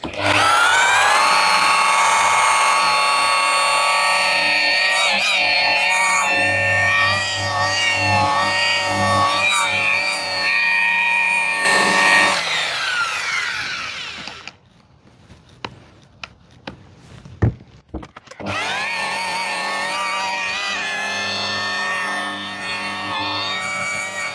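A power tool runs loud and steady on a scuffed car bumper during repair, cuts out around the middle with a few sharp knocks and handling noises, then starts up again and keeps running.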